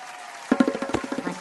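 A short burst of audience clapping at a children's magic show, starting abruptly then settling into a quick, slightly uneven run of claps, close and moderately loud.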